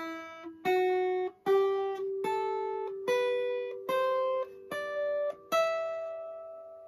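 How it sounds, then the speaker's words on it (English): A minor scale picked note by note on guitar in a jazz lesson for kids, eight clean sustained tones stepping upward one after another, close and clear with no talking. "Here's a minor scale."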